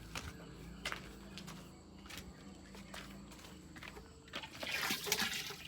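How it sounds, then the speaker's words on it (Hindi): Water pours into a drum with a steady rushing flow that swells louder near the end, heard close up over faint background noise and occasional knocks. "भर रहा है ड्रम।"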